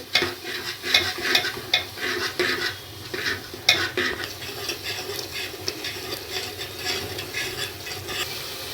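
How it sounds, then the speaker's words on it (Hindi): Whisked fresh yogurt being fried with spices in a pan, the spoon stirring and scraping repeatedly against the metal over a soft continuous sizzle, close by with no voices. "अब दही को भी इसके साथ में भूनेंगे मसाले के साथ में"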